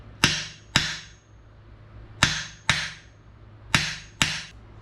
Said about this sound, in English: with every hit of the hammer to make sure your bearing driver's lined up